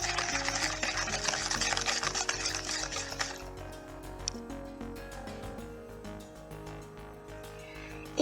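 Coffee cake batter with flour being beaten by hand, rhythmic strokes of the utensil against the bowl, a brighter hiss at first and then steady soft tapping strokes, no voices.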